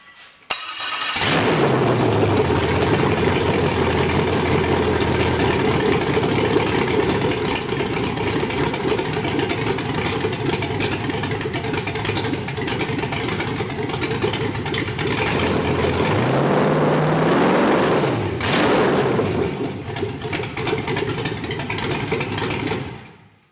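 An LS truck engine running on a MegaSquirt 2 cranks briefly and fires, then idles loudly and steadily up close, with a short rev rise late before settling back to idle.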